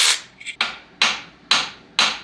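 Hammer striking an engine block used as an anvil, five sharp metallic blows at a steady half-second rhythm, close and loud, with a light tap in between.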